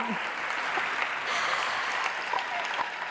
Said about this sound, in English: So another round of applause from Piwa and Nouran, ladies and gentlemen.